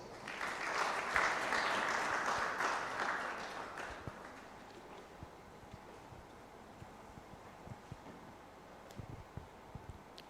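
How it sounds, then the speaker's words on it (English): An audience at a national summit on alternative dispute resolution applauds briefly; the clapping swells for a few seconds, then thins into scattered faint claps over quiet room noise. "A round of applause."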